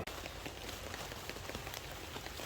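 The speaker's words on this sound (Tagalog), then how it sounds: "Aalis na kami dahil po ay umuulan." Steady rain falls on a farm during a lansones harvest, a dense, even patter on surfaces that continues without a break and without voices.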